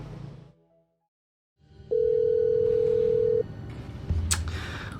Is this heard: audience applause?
no